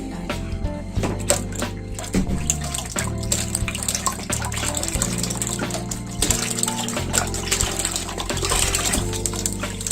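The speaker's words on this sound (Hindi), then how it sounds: "ये दूध है, ये मैं डालूंगी।" Milk being poured into a cooking pot for rice kheer, a steady loud liquid gush and splash running throughout, with shifting tone as the pot fills, no voices.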